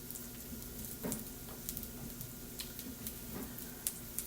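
Spicy bean cakes fry gently in a pan over low heat, a quiet, steady sizzle with occasional soft pops and ticks, no voices over it.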